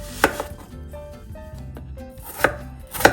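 An onion finely chopped with a knife on a board, a few sharp close knife strikes at the start and end with quieter slicing between, over soft background music.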